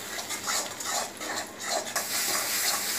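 A spice paste with Kashmiri chilli powder is sautéed in a pan for a Bengali katla kalia, giving a steady close sizzle broken by irregular scraping stirs, with no voices.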